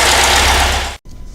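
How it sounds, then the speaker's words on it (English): Rebuilt air-cooled Porsche 912 engine runs loud and close with a busy mechanical clatter and some exhaust leaks, then cuts off abruptly near the end, leaving quieter low rumbling. "All right, so it runs, doesn't sound too bad."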